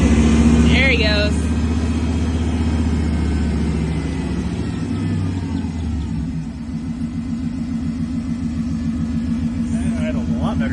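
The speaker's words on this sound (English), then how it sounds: "It idles a lot better now. It idles so much better." A 1979 GMC Heavy-Half pickup's long-dormant, revived engine idles with a close, steady, pulsing rumble for the whole stretch, loud at first and then settling, while voices talk over it.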